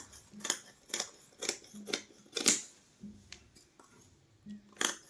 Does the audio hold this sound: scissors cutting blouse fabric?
yes